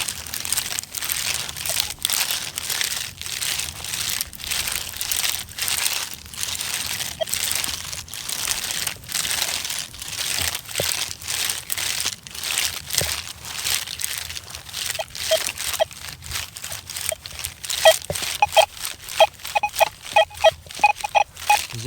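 A metal detector sweeps the ground and picks up iron, producing a rapid stuttering, clipping signal of dense, crackly bursts. Toward the end the bursts turn into short repeated tones.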